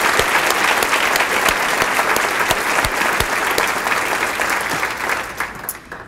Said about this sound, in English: Please give our sponsors a round of applause to thank them for their support.